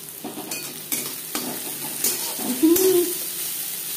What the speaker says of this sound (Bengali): মাছ ভেজে নেওয়া তেলে দিয়ে দেবো পেঁয়াজ কুচি